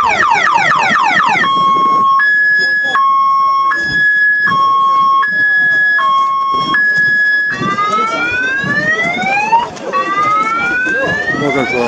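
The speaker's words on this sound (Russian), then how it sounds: "На ретро-автомобиле сработала сигнализация." Alarm on a retro car at an outdoor classic car show blares loud and close, cycling from rapid rising whoops to a steady two-tone alternating beep, then back to sweeping wails.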